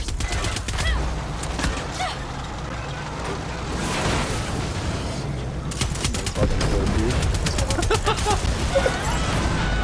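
Dense bursts of gunfire rake across the player in the video game Far Cry 6, loud and sustained with overlapping shots and crashing impacts through the whole stretch.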